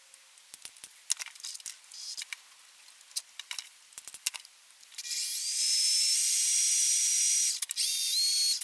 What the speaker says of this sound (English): I'm going to drill and tap a hole here.